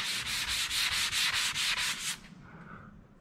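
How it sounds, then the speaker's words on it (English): A rough pad sands over fresh filler on a boat hull in rhythmic back-and-forth strokes, about eight loud even rasps before stopping, leaving faint background noise. "use a rough pad and just sand over it"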